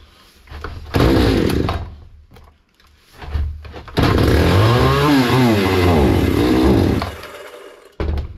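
A Hyundai 650 chainsaw engine is pulled over and fires in short bursts, then revs loudly and unevenly for several seconds before cutting out, with a brief restart at the end. It is close and loud with no talking.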